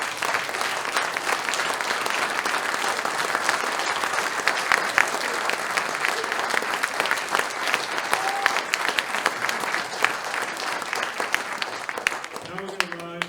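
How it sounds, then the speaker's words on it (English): A breakfast audience at an MLK Jr. event in a church hall gives a long, full round of applause, dense and even throughout, with some murmuring voices beneath it near the end. "let's just give another round of applause"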